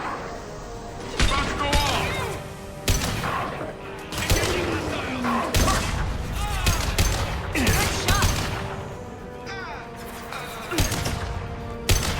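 Gunfire crackles in the sci-fi shooter Mass Effect 2, repeated sharp bursts and single shots spread through a tense firefight, with voices and game sounds between them.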